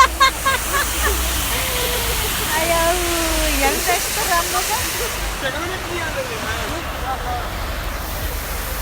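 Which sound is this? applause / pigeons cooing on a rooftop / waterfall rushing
waterfall rushing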